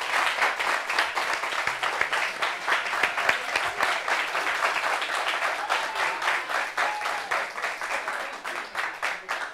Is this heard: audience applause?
yes